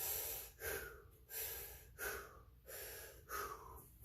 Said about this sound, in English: You hold this for 3 deep breaths.